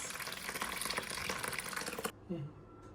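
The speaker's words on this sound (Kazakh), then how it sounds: "Міне бағана құйған суымызды осылай төгіп тастаймыз." Water poured out of jars, a dense broadband splashing rush that stops abruptly after about two seconds, followed by a brief low clunk and quiet.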